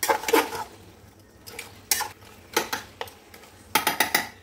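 A spatula scraping and clanking against a metal pot while goat head meat is mixed, several sharp irregular metallic knocks and scrapes with short pauses between them, close up and without talk.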